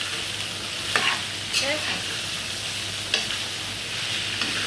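Beetroot is stirred in a sizzling pan, with a soft frying hiss throughout and a few distinct scraping strokes of the spoon against the pan, close and fairly quiet.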